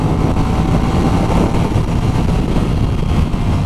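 Aprilia RS660 A2 sport motorcycle engine droning steadily while riding at about 100 km/h, a loud continuous hum with wind rush over the microphone throughout.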